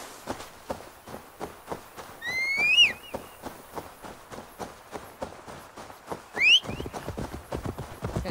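A horse in Assassin's Creed Valhalla, in the Wrath of the Druids expansion set in Ireland, plods along with steady, evenly spaced hoofbeats. It lets out two high, sweeping whinnies, one in the middle and one near the end.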